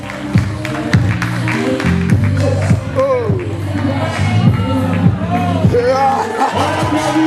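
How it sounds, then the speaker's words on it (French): Audience applause and cheering for performers modelling African-inspired outfits at an orphanage association's first-anniversary celebration: dense, sustained clapping with scattered whoops, mixed with music and voices. "On les applaudit parce qu'ils le méritent."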